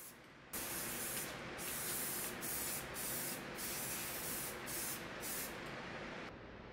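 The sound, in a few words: spraying water-based acrylic sealer on dresser drawer fronts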